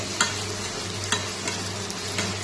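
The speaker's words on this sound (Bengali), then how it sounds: "এবার আমি এগুলো সব সমেত ভালো করে কষাবো মশলাটাকে, যতক্ষণ না পর্যন্ত একটু তেল ছেড়ে দিচ্ছে।" Masala being stir-fried in a pan for a Bengali banana flower curry, with a steady close sizzle and a few sharp scraping strokes of the spoon, no talking.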